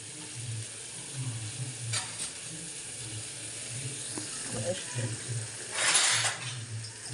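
A pan of mutton curry bubbles and sizzles gently while it is stirred now and then, with low scraping clinks of a spoon against the pan and a brighter burst of sizzling near the end.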